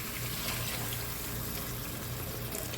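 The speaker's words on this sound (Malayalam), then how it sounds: "കുറച്ച് തിളച്ച ചൂടുവെള്ളം വെക്കാം" Boiling hot water pours steadily into a pan of mushroom masala curry, making a continuous hiss and splash that lasts the whole stretch at moderate, even loudness with no talking.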